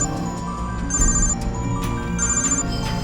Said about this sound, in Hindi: उसके फोन पर डीएसपी का फोन आ रहा है भाई।